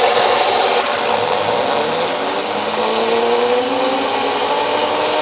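A Turgo micro hydro turbine in a stainless steel housing on an off-grid system spins freely with no load, giving a loud, steady whirring hum over rushing water, with its pitch climbing slightly.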